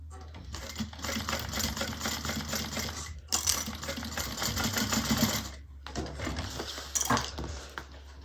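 A sewing machine stitches the Kiara bag in three rapid, rattling bursts separated by brief pauses, loud and close, with a low motor hum underneath.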